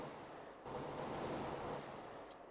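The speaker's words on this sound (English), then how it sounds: "We've got an exchange of gunfire happening over towards A site right now with Mario alone in those apartments" Gunfire exchange in Counter-Strike on the Inferno map during a competitive match, a dense continuous burst of overlapping shots heard without talk, steady and fairly loud throughout.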